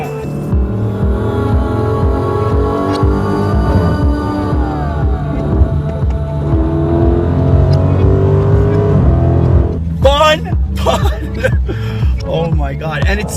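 Deep, throbbing V8 rumble of a Dodge with the 392 engine while driving, climbing and dropping in pitch through downshifts, loud and close, with voices over it near the end.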